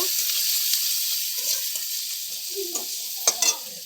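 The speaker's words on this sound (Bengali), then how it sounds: "এখানে হলুদ, এখানে লঙ্কার গুঁড়ো। একটু কষিয়ে নেব।" Turmeric and chili powder frying in a pan with salt and spices, a steady bright sizzle with scattered scraping stirs and a few sharper clacks near the end, close and with no talk.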